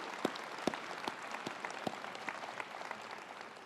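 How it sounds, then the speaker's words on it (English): Faint crowd applause at an evening service-program gathering, scattered claps with a few sharp louder hits standing out, heard from some distance. "give yourselves a round of applause for even coming out"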